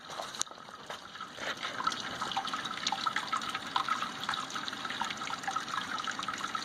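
Sparge water is poured from a big jug over the grain bed while brewing an Anzac biscuit ale, producing a steady, close splashing and trickling with no pauses.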